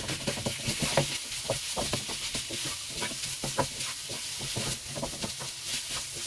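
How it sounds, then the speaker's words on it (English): Minced meat fries in a pan with a continuous close sizzle and hiss, punctuated by frequent scraping taps as it is stirred. "So frying the minced meat in the normal way"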